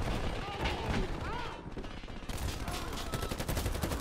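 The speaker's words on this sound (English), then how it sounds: "I was getting shot at from like three different angles" Video-game gunfire in Warface comes in bursts of rapid shots, loud and close, with some weapon mechanism sounds between them. A voice talks under the shooting.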